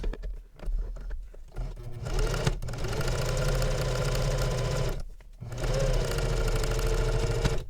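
Domestic sewing machine top stitching a fold on a travel belt, running in steady close bursts with short pauses between runs.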